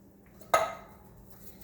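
Green beans with their juice go into a pot of homemade vegetable soup, heard as a single metallic clink against the pot followed by a short fading ring, otherwise quiet.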